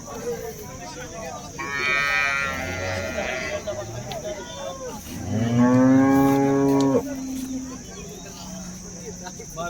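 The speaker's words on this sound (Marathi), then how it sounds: "या अशा प्रकारच्या गायी तुम्ही पाहू शकता" Jersey cows at a cattle market in Baramati give two loud, close moos, a shorter one and then a longer, deep drawn-out call, with background chatter and ambient noise.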